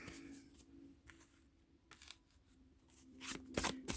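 Tarot cards being shuffled quietly, with soft riffling bursts and light papery flicks, close and faint, and no voices.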